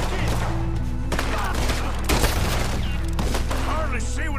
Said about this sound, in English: Hardly see what I'm shooting at.